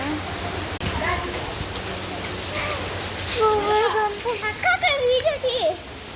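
Heavy monsoon rain pours onto a tent in a steady, dense hiss, while a voice and other talk rise over it in the second half.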